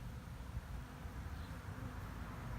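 A honeybee swarm hums steadily during capture on a hot April day, a dense, continuous low buzz that holds level and close throughout with no voices over it.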